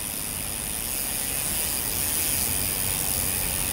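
Rear hub freewheel of a Visp Thunder 29er aluminium mountain bike with a Shimano Deore 12-speed drivetrain, a dense continuous ratcheting buzz from a freely spinning wheel, close and steady throughout.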